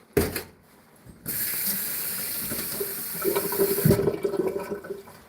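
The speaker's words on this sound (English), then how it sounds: "Or alternately, we fill it up with water." Water rushing and splashing steadily into a prototype contraption being filled, starting after a brief clatter and continuing for several seconds with gurgling swells, close and fairly loud, no talk.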